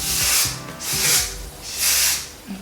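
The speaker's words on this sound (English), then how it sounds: "So we're gonna take our hairspray," Hairspray sprays onto hair in three long hissing bursts, each roughly half a second, close and fairly loud, with faint handling noise between them and no talk.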